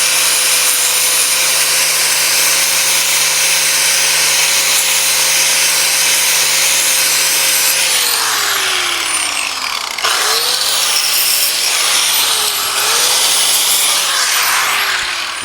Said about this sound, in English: I need to get this sanded.